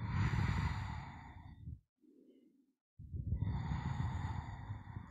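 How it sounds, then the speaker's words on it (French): Slow, deep breaths during the yoga butterfly pose: a long, close airy exhale, a short quiet pause, then a soft intake and another full breathy exhale, with no talking. "j'inspire et j'expire"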